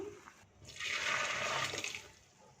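Boiled macaroni is drained into a strainer: water pours out in a steady rushing gush for about a second and a half, then tapers off, close by with no voices.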